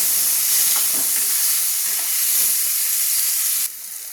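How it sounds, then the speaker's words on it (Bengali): Loud, hissing sizzle of onions frying in a pan until reddish-brown, steady and close, dropping slightly in level near the end. "এবার পেঁয়াজগুলো আমি লাল লাল করে ভেজে নিচ্ছি।"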